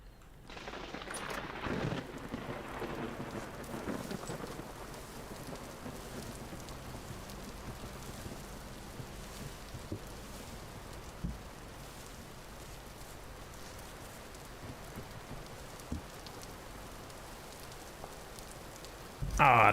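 Steady rain falls in the video game Vintage Story, a continuous soft hiss of drops that holds for the whole stretch, faint and even, with a brief louder knock at the very end.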